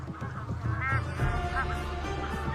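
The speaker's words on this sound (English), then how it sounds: "This is the dominant goose of the flock." Geese in a feeding flock honk repeatedly, several loud nasal calls overlapping close by above a steady low background.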